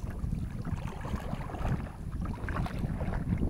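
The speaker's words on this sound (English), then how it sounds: "Wind is coming out of the east." Wind blows across a kayak on Salt Springs Run in Florida's Ocala National Forest, a continuous low buffeting rumble of gusts on the microphone with faint water movement beneath.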